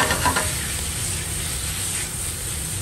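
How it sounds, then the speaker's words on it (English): Shrimp dropped into a hot pan with peppers sizzle steadily with a broad frying hiss, a few stirring clatters early on, close and continuous with no talk. "So we're gonna go ahead and add our shrimp."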